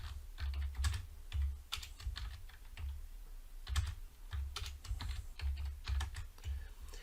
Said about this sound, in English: You can click in the notebook at any point and start to type.